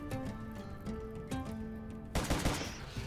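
Rapid gunfire in the video game RimWorld crackles in dense bursts over a sustained musical drone, building to a louder, heavier volley of overlapping shots near the end.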